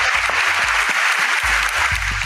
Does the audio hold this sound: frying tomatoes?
no